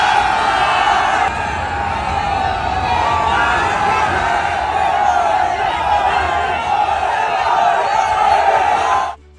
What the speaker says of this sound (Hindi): नारे लगा रहे हैं, उत्साह है लोगों में और भीड़ भी है।